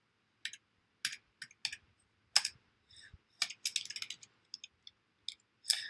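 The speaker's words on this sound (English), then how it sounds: "I'm going to type in an address." Bursts of clicking keystrokes on a computer keyboard as an address is typed, irregular taps and short runs spread over several seconds, close and fairly quiet with no talking.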